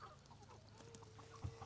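Backyard chickens cluck softly and intermittently near a porch, faint low-level calls over a quiet outdoor background.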